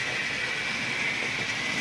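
A model train runs on a home layout, giving a steady, even rolling whir with a faint high whine throughout, close by and continuous with no talking.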